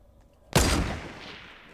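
A single loud gunshot in Fortnite Battle Royale cracks out sharply and then rings off in a decaying tail over a quiet background.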